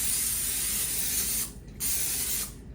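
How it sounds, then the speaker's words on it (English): Cooking spray hisses in two close, short bursts into the same pot used to boil the rice, greasing it for egg biryani; a steady broadband spray sound, then brief pauses. "we're gonna spray the pot first so the biryani doesn't stick at the bottom"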